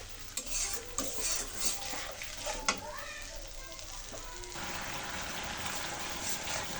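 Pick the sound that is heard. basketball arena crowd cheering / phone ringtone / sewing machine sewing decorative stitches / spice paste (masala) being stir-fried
spice paste (masala) being stir-fried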